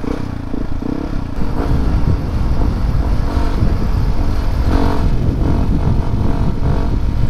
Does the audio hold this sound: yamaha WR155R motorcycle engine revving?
yes